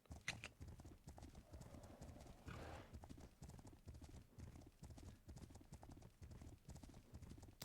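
Horse hooves clip-clop at a steady trotting rhythm in the video game Legend of Khiimori, a close, continuous run of hoofbeats with a brief whinny-like burst in the middle.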